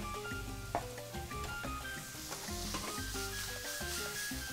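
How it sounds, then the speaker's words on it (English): Seafood sizzling in a hot pan for a pasta medley, a soft continuous frying hiss beneath background music. "See, it started to sizzling a little bit."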